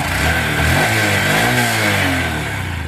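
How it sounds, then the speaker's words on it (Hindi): A Honda SP motorcycle engine runs steadily with its exhaust note, the tone rising and falling slightly as it is revved, loud and close with no talk over it. "इंजन का साउंड एक बार चेक कर सकते हो एग्जॉस्ट नोट देखोगे"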